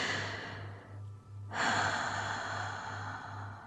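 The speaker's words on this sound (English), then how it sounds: "Now breathe." A person slowly breathing in and out during a guided relaxation, with a long airy exhale, a brief pause, then a fuller breath, heard up close over a steady low background hum with no talking.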